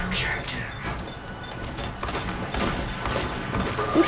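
Rapid gunfire and scattered shots in an Overwatch match, dense and busy throughout, with a person talking over the game action.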